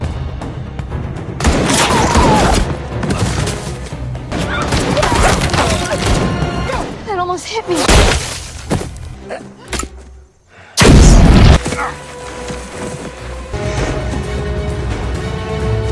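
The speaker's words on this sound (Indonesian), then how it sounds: "tiba-tiba ada tembakan dari arah yang sangat jauh." Loud gunfire bursts scattered among clattering crashes and booms, with one especially heavy blast near the end, set in a busy, chaotic action thriller film soundtrack.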